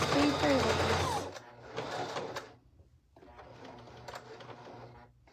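A sewing machine stitches small triangle appliqués onto a shirt, running in a loud close burst, then two quieter stretches of stitching with a gap between, a low motor hum underneath.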